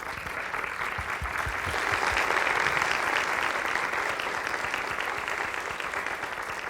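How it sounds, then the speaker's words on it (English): An audience at an academic lecture on social learning theory applauds the speaker, giving a steady, moderately distant round of clapping that continues evenly without talk. "Let's give him a round of applause."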